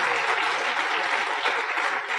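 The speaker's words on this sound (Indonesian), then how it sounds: "Tepuk tangan buat Tiansi Bapak Ibu." Steady, dense applause from a seated audience at a motivational business seminar, loud and continuous throughout with no pauses.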